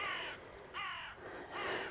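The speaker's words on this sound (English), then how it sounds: "You always get loads of, I think they're crows." Crows caw over open allotment fields in three loud, harsh calls that carry clearly from nearby, with no other sound competing.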